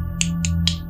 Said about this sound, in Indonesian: Niko merasa pipinya ditepuk-tepuk.